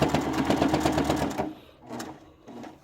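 A sewing machine stitching the hem of a tabard, running in a fast steady rhythmic whir for about a second and a half, close and loud, then stopping with a few quieter handling sounds after.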